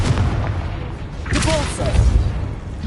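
The Confringo fire spell goes off in Hogwarts Legacy as a deep, rumbling boom with a burst of crackle, followed by further heavy thuds from the game combat.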